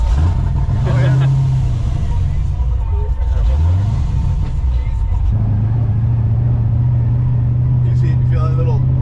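A boosted, cammed C6 Z06 Corvette under hard pulls during street tuning, its engine droning loud and steady with rising and falling pitch sweeps as it revs, while people talk inside the car.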